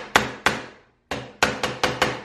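A hammer taps a fret into a Rickenbacker bass neck through a wood block, seven sharp close knocks: two spaced apart, a pause, then five quicker ones.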